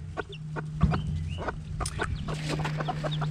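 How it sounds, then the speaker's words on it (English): Mother hens clucking beside a brood of newly hatched baby chicks, with steady nearby clucks and soft peeping calls repeating over a low background hum. "Now we have a lot of little baby chicks."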